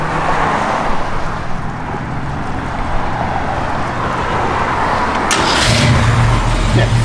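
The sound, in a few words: 1966 Ford Mustang Convertible engine starting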